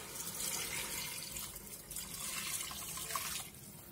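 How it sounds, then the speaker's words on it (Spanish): Hot water poured into a pot of lamb stew with artichokes and vegetables, a steady close splashing and running pour lasting several seconds without talk. "Le vamos a añadir agua caliente, muy importante que sea caliente"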